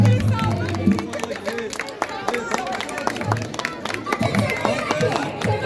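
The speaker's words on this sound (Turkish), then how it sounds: "Alkış." Audience applauding at a kindergarten show in a middle school, with dense overlapping claps mixed with crowd chatter and scattered voices throughout.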